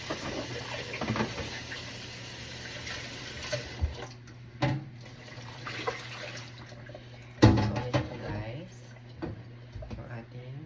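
Dishes are washed under a running kitchen tap in a home in America, with a continuous hiss of flowing water and occasional clinks and splashes while someone talks over it.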